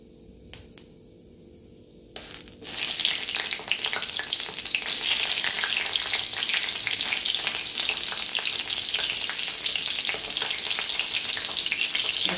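Cut green chillies drop into hot oil already holding fried cumin seeds, a few light clicks followed by a sudden loud, dense sizzle that carries on steadily and close up to the end, with no talking.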